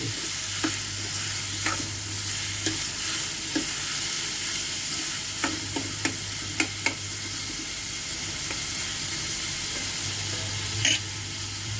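Onion frying in a pan for a poppy seed and cashew curry, a steady close sizzle under repeated scraping stirs and light clacks of a spoon against the pan, with a low hum running through parts of it and no voices.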